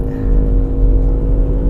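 BMW 218i three-cylinder turbo engine pulling hard under acceleration, a loud steady drone with a low engine hum close up and no talk.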